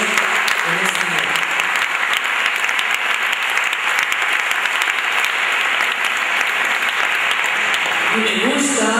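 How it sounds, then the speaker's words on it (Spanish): A church congregation breaks into loud, sustained applause during an evening sermon. The clapping is dense and continuous for about nine seconds, with a voice rising over it near the end. "Démosle un fuerte aplauso a Dios en esta noche"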